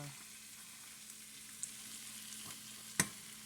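Seasoned flour sautéing in a pan for hamburger steak gravy, a steady low sizzle with one sharp clink of a utensil near the end, no talking.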